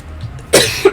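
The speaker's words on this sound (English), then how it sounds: "I'm like coughing like I took a big hit" A woman gives a single close, loud cough that ends with a short second burst, heard alone without any talk.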